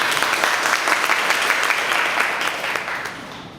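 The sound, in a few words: audience applause at club meeting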